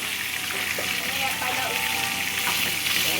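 Fish sizzles and crackles steadily in hot oil in a pan on a strong stove. The frying hiss runs loud and continuous, with faint background voices.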